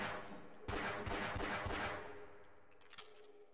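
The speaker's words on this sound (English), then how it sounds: "I'm gonna shoot you." Rapid bursts of gunfire from the video game They Hunger ring out with metallic clangs, loud for about two seconds before thinning to a few isolated shots, with no talk.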